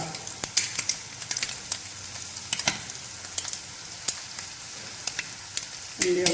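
Ginger and curry leaves frying in a hot pan for a Kerala shrimp fry, a steady close sizzle broken by sharp crackles and pops, with a brief stir near the end and no talk.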